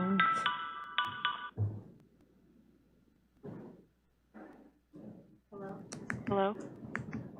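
A phone rings in short repeated electronic bursts during a city council meeting's call attempt, followed by scattered clicks and brief voices on the line.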